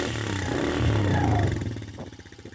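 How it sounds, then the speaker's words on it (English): Small engine of a 2024 Can-Am Renegade 110 XXC youth ATV, idling in neutral, revs up briefly and then drops back to a pulsing idle; close and fairly loud, no talking. "Put it neutral, give you guys some revs."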